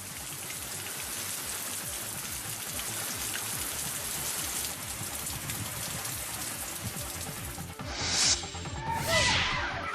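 Monsoon rain pours steadily, a dense, constant hiss of drops on surfaces, with a couple of brief whooshing swells near the end.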